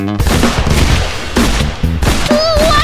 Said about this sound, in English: It doesn't stand a chance against my trusty revolver